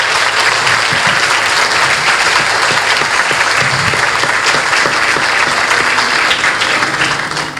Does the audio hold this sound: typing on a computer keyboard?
no